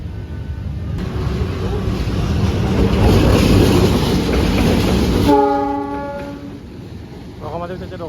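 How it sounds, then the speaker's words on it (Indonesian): A Serayu passenger train hauled by two locomotives passes close by in a loud, rising and fading rumble, followed by a sustained horn blast and a brief tonal tail. "menunggu kereta api Serayu dari arah timur yang katanya double traksi teman-teman"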